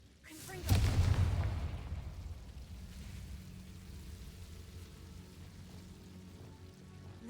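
A Confringo explosive spell in Hogwarts Legacy bursts as a single deep, loud blast, then trails off into a long rumbling decay over a quiet, crackling background.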